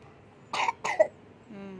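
A couple of sharp, close coughs in quick succession, followed by a short low vocal sound.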